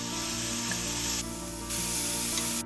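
Ham and chopped onion sautéing in achiote oil, a loud, dense, continuous sizzle with a steady frying hiss that swells and dips slightly, close up and without talk.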